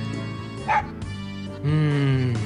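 Koromaru, the dog in the video game Persona Q, gives a short sharp woof followed by a longer, drawn-out bark, both close and clear.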